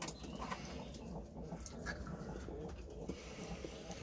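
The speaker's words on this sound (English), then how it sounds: "Pigeon courtship is so funny to watch." Several pigeons coo during courtship in a loft, with soft low murmuring coos and faint wing rustles over a busy steady background, moderately close.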